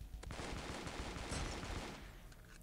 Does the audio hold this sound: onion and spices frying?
no